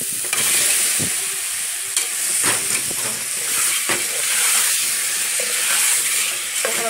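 Chicken sautéing in a pan for canjiquinha, a steady close sizzle and hiss with scattered stirring clatters and scrapes running throughout, no talking.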